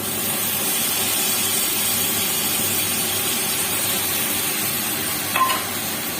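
Cumin and onion fry in hot oil with spices, a steady close hiss of sizzling that runs without a break, with one brief scrape or clink near the end and no talking.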